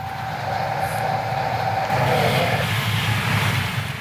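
A simulated HST high speed train passes on the London Kings Cross to Doncaster line in a train simulator game, a steady, close, loud rumbling roar with rail noise that swells slightly midway.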